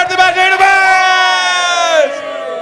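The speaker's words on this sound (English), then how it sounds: "Right, everybody, you know what to do. Clap us back in." A studio audience at a whisky birthday-bash show cheers and whoops loudly in a sustained, swelling roar that eases slightly toward the end; distinct claps are hard to pick out.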